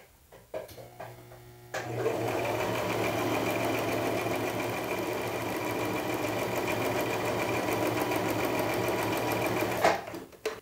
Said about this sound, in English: I'm going to run an overlock stitch over the raw edges.